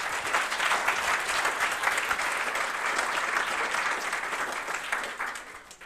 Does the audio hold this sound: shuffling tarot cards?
no